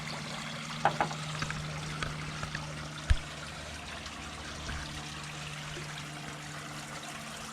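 Water trickles and splashes over a camera, a faint continuous dribbling wash. A few soft knocks and one sharp thump break through partway.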